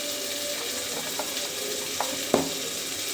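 Tomatoes with turmeric being stirred in a pan, with a steady faint sizzle and a few soft spoon scrapes and knocks against the pan, the last one a little louder.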